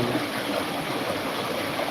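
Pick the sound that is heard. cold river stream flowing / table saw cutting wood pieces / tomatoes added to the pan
cold river stream flowing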